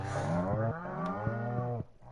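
A single cow gives a long, clear moo with a wavering pitch in the farming game Stardew Valley, close and alone, ending abruptly.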